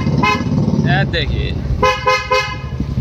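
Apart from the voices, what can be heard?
Royal Enfield Bullet Classic 350 motorcycle horn honking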